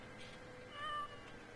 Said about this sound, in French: Attention de nouveau le chat.